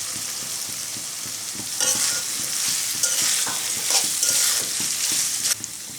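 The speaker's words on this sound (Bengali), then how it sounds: "আমি পোস্ত পেঁয়াজের সঙ্গে ভালো করে ভেজে নিয়েছি। এখন দিয়ে দেবো আলু।" Potatoes tumble into poppy seed paste and onion frying in a pan, a steady close sizzle with scraping stirs and a louder burst of frying as they go in, no voices.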